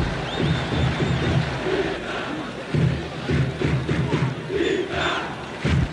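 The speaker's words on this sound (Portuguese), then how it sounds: "Torcida gritava o nome do Petkovic, principalmente aqui nas sociais" A football crowd at São Januário stadium, during a 2004 Brazilian league match between Vasco and Atlético-PR, chants a player's name, a loud sustained roar of massed voices swelling in rhythmic waves from a distance.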